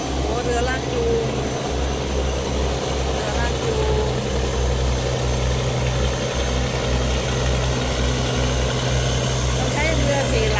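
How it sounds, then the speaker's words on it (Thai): Tugboats on the Chao Phraya River towing a large ship, their diesel engines giving a loud, continuous low throb that pulses steadily and stays close for the whole stretch, with faint talk beneath. "ต้องใช้เรือ4 ลำใช้เรือ4 ลำลากจูงเรือใหญ่"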